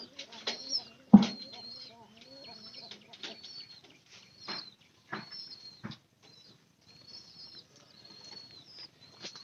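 Pigeons in a coop make soft repeated coos and chirps, with wing flaps and a sharp flutter near the start, close by and fairly quiet, with short gaps between calls.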